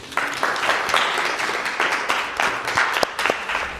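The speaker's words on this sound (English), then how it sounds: "Give her a big round of applause." A seminar audience claps in a short, moderately loud round of applause, uneven hand claps running steadily throughout with no talk over it.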